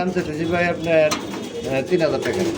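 Pigeons in a breeder's loft coo in repeated rolling, throaty phrases, close and clear, while someone talks alongside.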